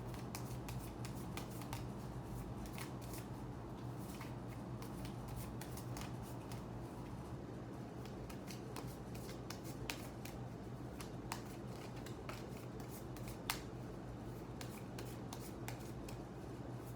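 Tarot cards shuffle close and quietly for an extended stretch, with continuous riffling and soft slapping flicks at an uneven rhythm and occasional sharper snaps, with no voice over them.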